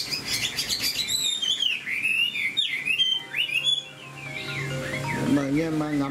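Chinese hwamei (họa mi) songbird singing close and clear, with a long run of bright rising and falling whistled phrases and trills that shift pitch constantly, continuous across the whole stretch.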